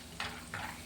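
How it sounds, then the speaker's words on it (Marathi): Peanuts frying in hot oil for a chivda snack: a steady close hiss with two brief louder bursts of sizzle as the pan is stirred, no talking. "आता मी याच्यामध्ये छान शेंगदाणे पण तळून घेते बघा."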